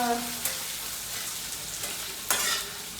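Onions fry in a pan, browning, with a constant close sizzle and a few sharp scrapes of stirring against the pan; no one talks.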